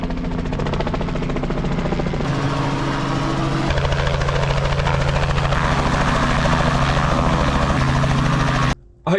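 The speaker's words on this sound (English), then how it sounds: "they're going to go and land a helicopter on this green" A helicopter comes down to land on a golf course green, its rotor thudding loud and close in a steady pulsing roar that holds for several seconds before cutting off briefly near the end.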